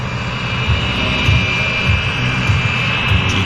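Italian Frecce Tricolori jets taxi at the CFB Cold Lake airshow, a steady loud engine whine with a high tonal hiss holding throughout, no talk.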